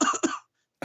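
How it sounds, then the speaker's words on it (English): Two quick, rough coughs close up, then a brief silence before another starts. "No, I've always got a cough."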